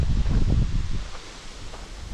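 Gusts of wind sweep through balsam fir and other leaves in a few rustling surges before a storm, close and fairly loud, with no voices.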